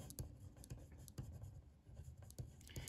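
Pen writing an answer by hand on paper, producing repeated short scratchy strokes in an irregular rhythm, close and fairly quiet, with no talking.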